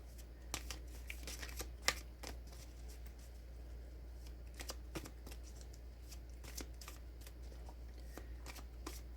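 Tarot cards being shuffled and drawn in a quiet room, a soft papery riffle of crisp flicks and snaps, close and faint over a low steady hum.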